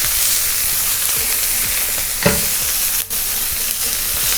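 Capsicum lightly sautéed in a pan for quinoa tofu tacos, a loud, continuous close sizzle with rhythmic scraping stir strokes and one sharper clatter midway.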